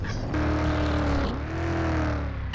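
A game car in a GTA-style open world drives past with a steady engine drone, its pitch dipping and then rising again as the engine revs, loud and close with no talk.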